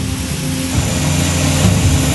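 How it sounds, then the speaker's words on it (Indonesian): Two Hercules transport planes land at Minangkabau International Airport in Padang, West Sumatra, a loud steady propeller and engine roar filling the whole stretch without pause. "Dua pesawat Hercules membawa bantuan mendarat di Bandara Internasional Minangkabau"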